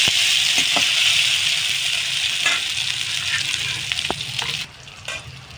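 Ginger paste sizzling and frying in a hot pan, a loud steady crackle up close with a few scraping stirs of a spoon, quieting briefly near the end.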